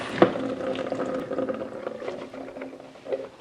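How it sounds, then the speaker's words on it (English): Soaking water drained off ingredients for a vegan borscht, a continuous splashing, gurgling pour close by with a brief clatter at the start, no talking. "we're just going to drain off this water, because this is the soaking water"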